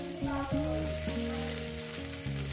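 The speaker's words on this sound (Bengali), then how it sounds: "আরও 2-3 মিনিট 4 মিনিট ভাজবো এইভাবে মিডিয়াম গ্যাসে" Beto greens and eggplant fry over a medium gas flame with a steady, close hiss and sizzle, alone and without talk.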